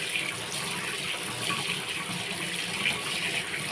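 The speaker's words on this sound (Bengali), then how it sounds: "আমি শিউলি পাতাগুলোকে ভালো করে ধুয়ে নেব" Shiuli leaves being rinsed under a running tap, a steady close splashing stream of water into a sink with no break and no talk.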